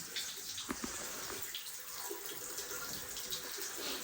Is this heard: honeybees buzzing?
no